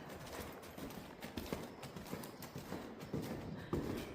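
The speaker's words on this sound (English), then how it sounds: "If your horse goes into a counter canter and it is balanced, it is okay to let it go for a little bit." Off-the-track Thoroughbred horse cantering in a counter canter, its hooves drumming in a steady, rhythmic beat that sounds moderately distant over a soft background hiss.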